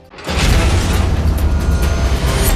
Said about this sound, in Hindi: पाकिस्तान के क्वेटा शहर में फ्रंटियर कॉर्प्स मुख्यालय के पास एक भीषण धमाका हुआ।